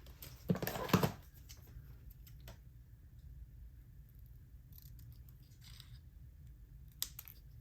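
Scissors snip through a piece of card for a handmade junk journal in one short burst of close cuts, followed by quiet with a few faint ticks.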